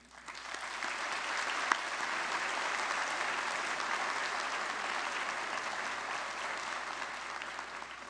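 A large audience at a Mohawk College School of Health convocation breaks into sustained applause, a dense, even roar of many hands clapping that builds quickly and holds steady throughout, without voices over it.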